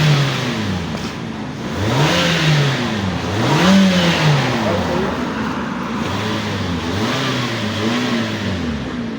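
A car engine is revved repeatedly in a mechanic's workshop to blow dirt out of the silencer, loud rising and falling revs in several bursts over a steady idle, with some speech underneath.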